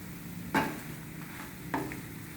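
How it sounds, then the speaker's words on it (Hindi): Toasted bread slices are mixed in butter masala in a pan: two quick, close scraping strokes of a spatula over a faint, steady sizzle. "इसमें हम अपनी ये भुनी हुई ब्रेड की स्लाइस को डाल देंगे और अच्छी तरह से इसको हम मिक्स करेंगे सभी जगह"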